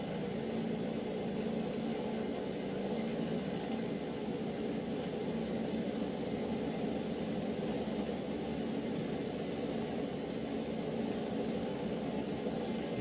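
Famous Flyer 09 aircraft piston engine running steadily on the ground in Microsoft Flight Simulator 2020 during a magneto check: a constant droning hum at even pitch and loudness throughout, with no talk.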